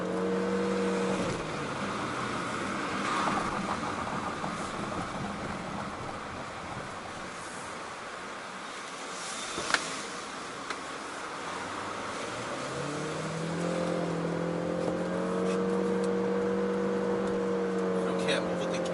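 Chery Omoda car accelerating to overtake on the road: engine drone and road and wind noise fill the cabin, with the engine note climbing at the start and again near the end.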